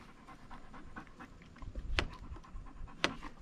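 A dog pants steadily and close by in a kitchen beside a wood stove, quick breaths punctuated by a couple of sharp clicks or knocks, with no one speaking.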